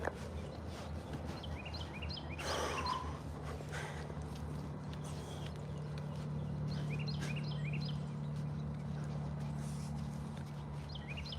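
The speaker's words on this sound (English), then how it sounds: "The birds are waking up." Birds sing and chirp in repeated short phrases during an early morning hike, moderately near and fairly soft, with footsteps and a rustle partway through.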